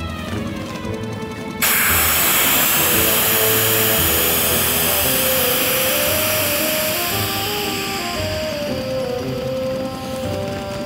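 Air rushes out of the punctured stern tube of an inflatable boat with an air-inflated high-pressure floor: a loud, steady hiss that starts abruptly after a short lull and keeps going to the end.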